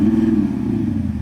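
An Audi SQ7's 4-litre twin-turbo V8 diesel revs with a deep, throbbing low rumble that pulses steadily, loud and close, with no voices over it.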